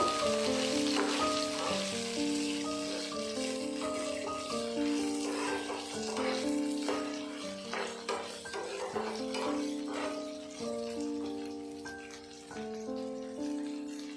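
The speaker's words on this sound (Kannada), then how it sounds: "ಹಾಗೆ ಒಂದು ಟೊಮೆಟೊನ ಕಟ್ ಮಾಡಿ ಹಾಕ್ಕೊತಾ ಇದ್ದೀನಿ ಇದನ್ನು ಚೆನ್ನಾಗಿ ಫ್ರೈ ಮಾಡ್ಕೋಬೇಕು" Cashews and chopped tomato frying in a pan while home-cooking a chicken sambar, with a steady close sizzle and crackle and occasional stirring clinks throughout, no talking.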